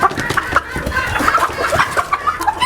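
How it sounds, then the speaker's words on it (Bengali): A rare-breed Golden Polish Cap hen with its head crest trimmed clucks near and loud on a fancy poultry farm, in an uneven string of short calls with no talking. "এটা গোল্ডেন পলিশ ক্যাপ"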